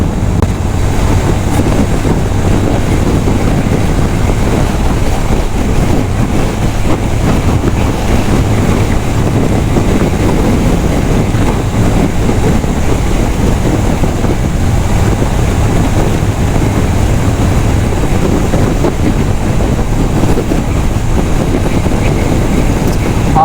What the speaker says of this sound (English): Oh, pretty windy out here.